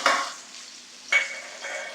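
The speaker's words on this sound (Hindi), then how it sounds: "अब इसको फिर हल्का गोल्डन होने तक पका लेते हैं, यानी फ्राई कर लेते हैं" Finely chopped onions fry in a pan, with a close sizzling hiss that flares at the start and again midway as they are stirred, then settles to a softer crackle.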